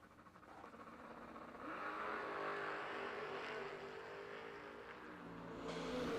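Drag racing cars including a Mustang launch with a rising engine roar that climbs to a loud, sustained scream and swells again near the end.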